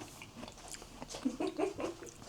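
Crunchy frozen food being bitten and chewed close up, a series of irregular crisp crunches building through the second half, moderately quiet with no talking.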